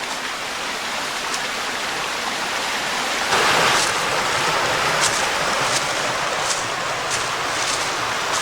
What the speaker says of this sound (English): Oh, just like that, and a little waterfall.